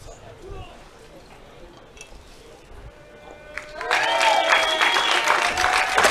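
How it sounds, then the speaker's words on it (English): Crowd applause builds at a baseball game, starting as faint murmur and swelling into loud, sustained clapping and cheering from the stands for the ceremonial first pitch. "let me thank Mr. Taylor for the round of applause"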